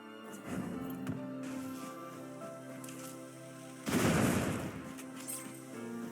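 A bomb blasts through a bombable wall in the adventure game Oceanhorn 2, a single loud burst of noise lasting about a second, set against a quieter steady musical backdrop.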